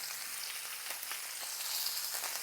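Garlic, thyme and rosemary sizzle in a pan beside a browned roasting chicken, giving a steady, moderately quiet bright hiss with small crackles throughout.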